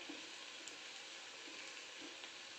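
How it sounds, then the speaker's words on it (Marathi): Potato tikki shallow-frying in hot oil, a steady faint sizzle with soft crackles running throughout, no voices. "तळायचं आहे."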